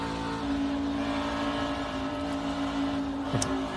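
NASCAR Xfinity race cars at Auto Club Speedway, a steady, loud engine drone with sustained tonal whine throughout, a nearby car surging slightly late on.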